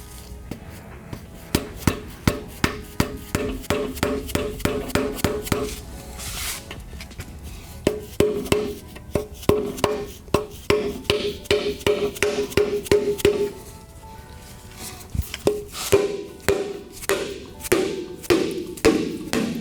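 A flat gasket scraper is tapped and pried against a junkyard Toyota 2JZ engine part, producing repeated close, sharp thuds in steady bursts until the seal breaks free with a hollow knock.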